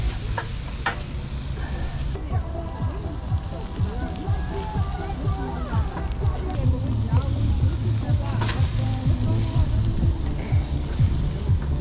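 A second batch of meat fries in a pan at an outdoor camp, sizzling steadily and loudly throughout with occasional scraping and stirring sounds.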